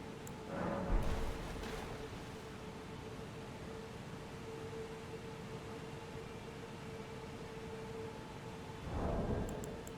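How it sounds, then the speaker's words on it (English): Waterfall in Elden Ring giving a steady, broad rushing hiss that fills the whole stretch at moderate level, with a faint tonal hum underneath and a couple of brief louder swells. "The waterfall."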